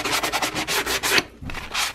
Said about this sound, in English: now I'm going to probably sand this a little bit and scuff it up pretty good